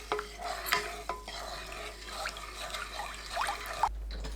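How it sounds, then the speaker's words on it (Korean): Brine of water, vinegar, coarse salt, stevia and bay leaves being stirred in a pot, with soft liquid swishing and faint scraping strokes, fairly quiet and close. "냄비에 물 1리터, 식초 300ml, 굵은 소금 2큰술, 스테비아 2큰술, 월계 수잎 3장 넣고 섞어줍니다"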